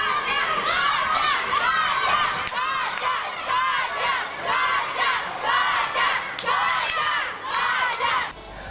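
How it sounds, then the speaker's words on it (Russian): Support groups at a teachers' competition at a shopping centre's game attractions cheer and chant loudly, a dense crowd of voices shouting in repeated rhythmic bursts that fill the space continuously. "Участников подбадривали группы поддержки, которые подготовили плакаты и кричалки."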